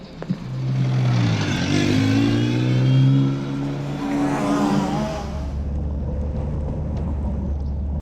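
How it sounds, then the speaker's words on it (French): A car accelerates hard at high speed around the Paul Ricard F1 circuit, its engine loud and close as it climbs steadily through the revs, then falls away to a lower, steadier drone toward the end. "nous allons être les premiers à rouler à haute vitesse sur le tracé F1"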